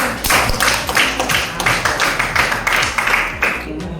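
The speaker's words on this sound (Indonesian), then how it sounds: "Tepuk tangan dulu untuk kelompok 1." Students in a classroom clap for the first group about to present, steady rhythmic applause at a brisk even beat, close and loud, with no voices over it.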